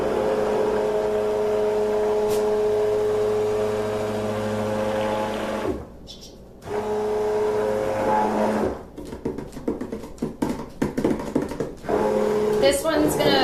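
Stick blender whirring in rhubarb pie soap batter, a steady motor hum that cuts out briefly and then restarts in choppy bursts, with talk during the pauses.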